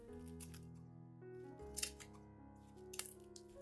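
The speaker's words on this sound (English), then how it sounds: "Use scissors to cut the onion skins into thin," Scissors snipping dry onion skins into small pieces in a quiet room, a few sharp close crisp cuts over a soft low hum.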